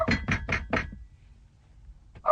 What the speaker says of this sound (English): somebody knocking.